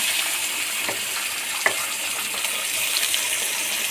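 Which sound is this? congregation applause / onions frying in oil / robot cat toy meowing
onions frying in oil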